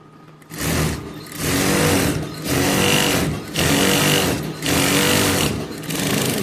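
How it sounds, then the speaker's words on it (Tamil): A sewing machine stitches an edge seam on an aari work blouse in five loud, close bursts of rapid rattling stitching, with short pauses between them and no talking. "திருப்பிட்டு இதில் ஒரு எஜ்ஜு தையல் போட்டுக்கலாம்"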